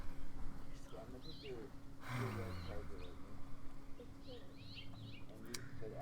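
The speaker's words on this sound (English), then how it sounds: "the birds in the back are amazing" Birds sing and chirp faintly outdoors in the background. Their soft, scattered calls sit under a quiet ambient hiss, with a brief voice-like sound partway through.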